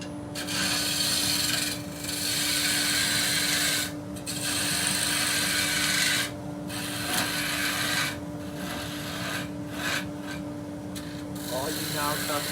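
Wood cut with a gouge on a lathe, a steady scraping rasp running almost continuously with a few brief pauses, close and fairly loud over a constant machine hum.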